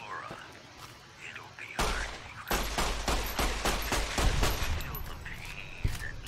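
Rapid bursts of gunfire in Fallout: New Vegas, many loud shots fired in quick succession over a few seconds, with sporadic louder cracks near the end.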